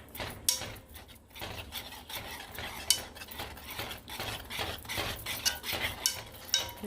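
Spoon scraping and stirring a seafood fettuccine parmesan cream sauce in a pot, with repeated soft scrapes and clinks in a steady rhythm, close and moderately quiet, no voices.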